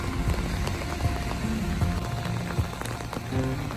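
Steady rain falls outdoors on a street in Ketchikan, Alaska, a dense, even patter that fills the scene from start to finish, with scattered louder drops and faint low rumbles but no voices.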